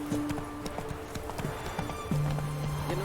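Hooves of the horse Roach clip-clop rhythmically at a gallop in the video game The Witcher 3: Wild Hunt, steady and close, with a low tonal drone running underneath.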